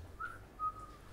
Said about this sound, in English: Can't whistle, sorry.